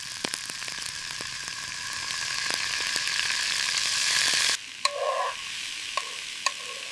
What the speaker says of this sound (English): Frying the chicken evenly ensures a perfect golden crust.